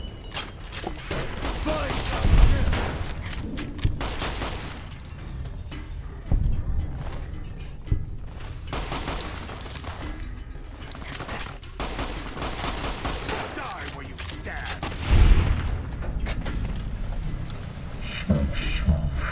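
In a video game, a volley of rifle fire goes off on command: gunshots crack in bursts at irregular moments over continuous battlefield noise, with louder peaks standing out from the steady din.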